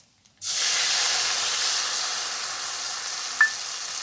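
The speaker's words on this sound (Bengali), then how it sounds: "ফোড়নে দিচ্ছি শুকনো লঙ্কা আর কালো জিরে। দিয়ে দিচ্ছি সর্ষে আর লঙ্কা বাটা।" Dried red chillies, nigella seeds and mustard-chilli paste hit hot oil for an egg curry with a sudden loud hiss, settling into a steady, bright sizzle and spitting, with one sharp pop near the end.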